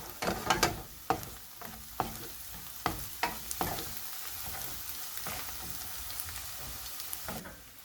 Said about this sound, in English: Now you see onions have started to get cooked. They are getting a little brownish.